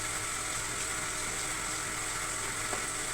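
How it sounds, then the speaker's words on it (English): Red onions frying in vegetable oil give a steady, even sizzle and hiss that holds unchanged throughout, close and moderately quiet, with no voices. "Red onions into the vegetable oil."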